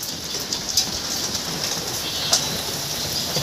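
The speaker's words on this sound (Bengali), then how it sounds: "বৃষ্টি হচ্ছে।" Steady rain pours down on a wet morning, a dense continuous hiss with occasional brief patters and drips, heard close and fairly loud with no talking.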